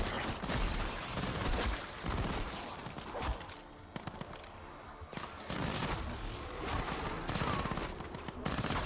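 Rapid automatic gunfire in the Black Ops 7 Zombies video game: dense, loud volleys of shots that pause briefly midway and then resume with hard, cracking bursts.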